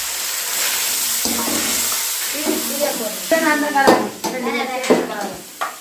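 Tomatoes going into a hot frying pan for vegetable biryani at an outdoor village cooking spot, a steady sizzle and hiss with stirring scrapes growing louder toward the end, voices faint underneath.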